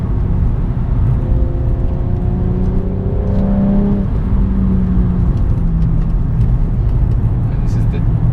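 A BMW M135i drives a shaded, wet and slippery stretch of the Nürburgring circuit, its engine note droning steadily close up with rising and falling revs, while talk carries over the top.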